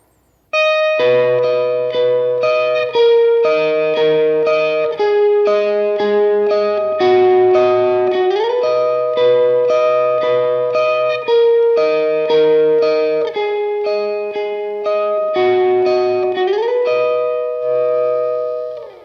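A distorted electric guitar plays a slow, steady melodic riff, sustained notes sliding between pitches, loud and alone with no voices.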